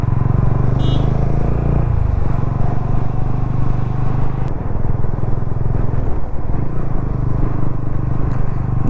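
A line of cars and motorcycles passes along a road beneath rocky cliffs in rural Konkan, a loud continuous roar of engines with rising and falling motorcycle revs and no pause.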